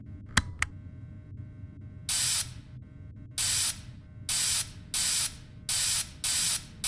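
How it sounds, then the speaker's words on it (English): In a video game, cleaning spray is spritzed onto an animatronic suit in six short, loud hissing bursts spaced about half a second apart, preceded by a couple of faint mechanical clicks. "So go ahead and start spraying the suit"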